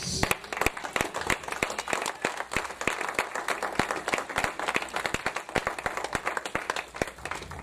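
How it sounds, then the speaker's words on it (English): A church congregation claps during a service, many hands making sharp irregular claps that thicken into steady applause, moderately close, with no talk over it. "Keep down your Bible and clap for Jesus."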